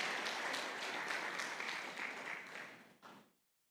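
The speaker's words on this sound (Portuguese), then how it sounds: "Vamos finalizar com a salva de palmas." Church congregation gives a short, dense burst of clapping that fills the room, holds for a few seconds, then thins out with a final few claps before silence.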